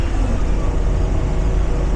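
A 2023 Blue Bird Vision school bus accelerating at full throttle, a loud, steady low engine drone with road rumble, close and continuous, no talking.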